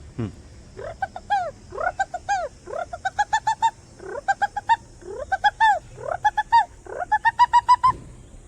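A voice imitates a pigeon with repeated rhythmic cooing bursts, each a quick series of throaty pulses, loud and close with short pauses between.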